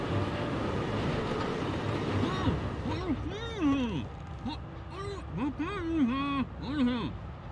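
A moving train in the video game Forgotton Anne rumbles steadily in the background while voices talk over it in the foreground.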